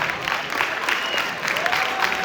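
Applause from the audience at a Tamil school's annual graduation ceremony, a steady dense wash of many hands clapping at moderate loudness, with a faint tone running through it.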